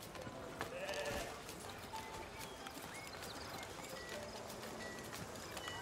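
Fluffy sheep in a video game bleat faintly amid a busy, noisy game soundscape with soft hoof-like clopping, no speech.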